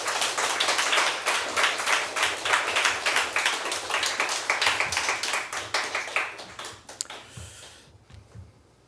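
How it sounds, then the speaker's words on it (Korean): A church congregation at a Sunday morning service claps in a fast, roughly unified rhythm to welcome the preacher, loud and close, then thins out and fades to a few stray claps near the end. "박수로 맞이하겠습니다"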